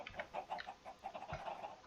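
Several Minecraft chickens clucking in quick, irregular bursts, fairly quiet, with no talking.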